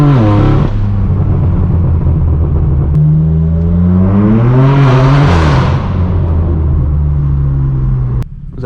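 A straight-piped BMW M4 F82 in Austin Yellow booms through Beverly Hills streets, its loud exhaust rumbling low, rising in a revving swell midway, then settling back to a deep idle drone.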